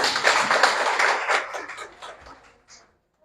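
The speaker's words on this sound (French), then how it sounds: "Applaudissez pour lui." A seminar audience claps for a participant in a short round of applause that starts full and close, then thins and fades out, with a final few scattered claps before silence.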